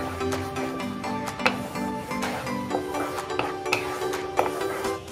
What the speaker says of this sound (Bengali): এভাবে সমানে নাড়াতে হবে।